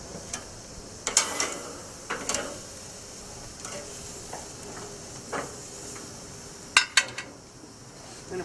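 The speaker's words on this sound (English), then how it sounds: "I'm going to flip these." Apple butter ribs being flipped on a hot cooking surface: steady soft sizzling broken by several sharp clicks and clanks of metal tongs, the loudest pair coming near the end.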